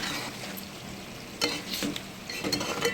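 Chicken frying in a pan gives a continuous close sizzle, with a few louder bursts as it is stirred or turned partway through, and no voices.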